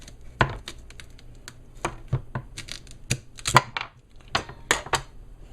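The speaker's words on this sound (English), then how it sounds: "You cut the cassava up like this," A knife chopping cassava into portion-sized pieces on a board, a series of sharp, irregular close-up thuds and clacks spaced unevenly, with no talking.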